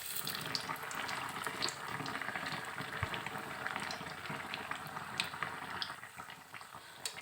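Bread pakora coated in gram flour batter and deep-frying in hot oil, a close, continuous fizzing sizzle dotted with small crackles and pops, soft and steady.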